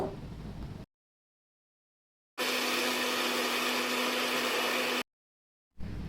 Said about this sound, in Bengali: এখন আমি সব মিশ্রণ একসাথে ব্লেন্ডারিং করে নিব